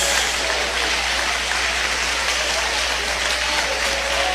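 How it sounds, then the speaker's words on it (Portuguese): A church congregation applauds continuously, a dense, steady wash of clapping from many hands filling the room for the whole stretch without pause. "Eu quero ouvir palmas misturado com glória a Deus"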